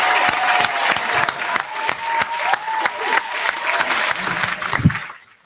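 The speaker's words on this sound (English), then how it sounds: "I'm clapping." An audience claps and cheers at a live talk event, with fairly close, brisk, dense applause and a few voices calling out, tapering off and fading near the end.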